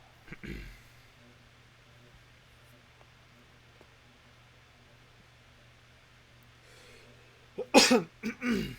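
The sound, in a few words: throat clearing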